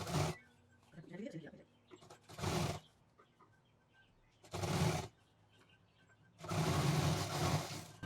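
Bursts of a sewing machine stitching leftover fabric scraps, three loud runs of motor whir separated by quieter handling noises, with someone speaking Hindi between them.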